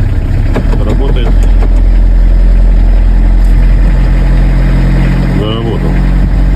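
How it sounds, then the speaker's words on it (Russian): A Fiat Scudo diesel engine idles loud and close after long standing, a rough steady clatter that runs throughout while people talk over it. "Дизель заработал."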